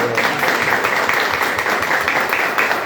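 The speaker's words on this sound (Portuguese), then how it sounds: "Uma salva de palmas." A round of applause from an audience at a focus group session on tourism information, dense steady clapping that fills the whole stretch, loud and close.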